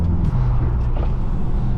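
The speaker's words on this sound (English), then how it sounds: "Got the wheels to spin a little bit there on that little launch there." A BMW M6 launches hard with a little wheelspin, its engine a loud, close, low roar that stays strong and fairly steady throughout the short burst.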